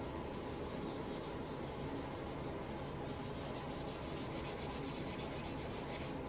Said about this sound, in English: So ideally when you're block sanding like new paint, wet sanding new paint, you don't really want to use your fingers